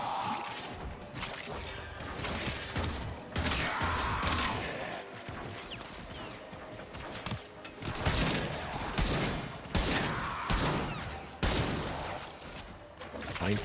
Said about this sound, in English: I fucking hate this Chalker gun.